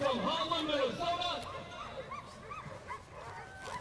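Sled dogs at the start of a sled dog marathon bark, yip and whine excitedly in an overlapping chorus, loud and close, while an announcer talks over them.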